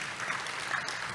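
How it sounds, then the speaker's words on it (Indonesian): A church congregation claps during a Sunday service, a brief burst of steady, moderately loud applause. "Tepuk tangan buat Tuhan Yesus."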